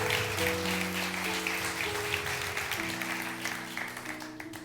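Church congregation applauding during a Spanish-language sermon, sustained clapping over a held organ or keyboard chord that shifts slowly underneath.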